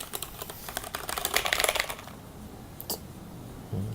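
Typing on a Qisan Magicforce 68 mechanical keyboard with Cherry MX Brown switches: a close, quick run of light clacking keystrokes, denser in the middle, then a pause and a couple of sharper isolated key hits.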